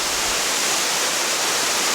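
A rainforest waterfall roars as a steady, dense rush of falling water, loud and close, with no talking.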